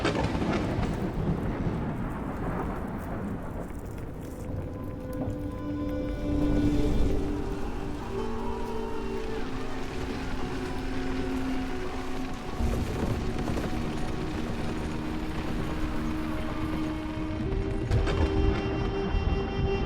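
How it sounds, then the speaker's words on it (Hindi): A storm at sea with thunder, heard as a loud, continuous roar of wind, rain and water with deep rumbling swells, steady throughout and close. "हे भगवान, ऐसे तूफान में कोई कैसे सोएगा?"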